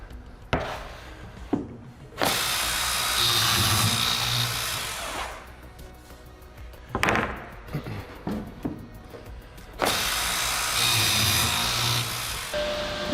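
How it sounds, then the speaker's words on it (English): An edge banding machine runs while cabinet parts are edged, with loud, steady mechanical whirring in long stretches broken by abrupt stops, clunks and quieter gaps. "Now we have the edge bander running."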